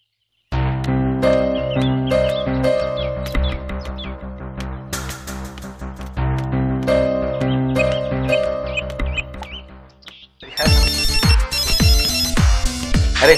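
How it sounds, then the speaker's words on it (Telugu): A melodic phone ringtone plays loudly, a repeating tuneful phrase that cycles twice before switching to a brighter, busier chiming section, with no talk over it. "అరే వెళ్ళి నాకు ఫోన్ వచ్చింది"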